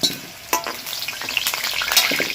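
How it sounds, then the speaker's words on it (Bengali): Potatoes frying in hot oil, a steady crackling sizzle with sharp pops and bursts, close and fairly loud throughout, with no voices. "আলুগুলো একদম লাল করে ভাজা হয়ে গেছে।"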